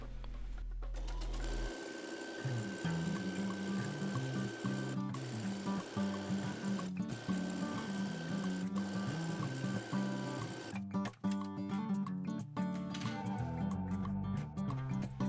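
A sewing machine runs a long gathering seam with a 4.0 stitch length on blouse fabric, a close, steady rapid mechanical whirr with brief pauses and starts.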